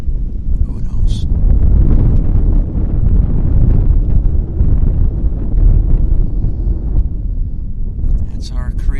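Strong wind buffets the microphone in a constant low roar at Vancouver Airport, with brief high squeals from a distant jet engine at the start and end.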